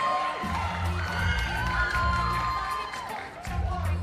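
An audience at a Jamaican performing arts awards ceremony cheers and whoops for the award winners and nominees, a loud, continuous crowd roar with shouting voices throughout, swelling and dipping slightly.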